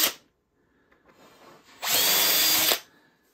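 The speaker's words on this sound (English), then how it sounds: "it's very simple, countersink bit" A drill with a countersink bit bores into a wooden cat shelf, starting with a brief whir, then after a pause a single loud, close burst of drilling lasting about a second.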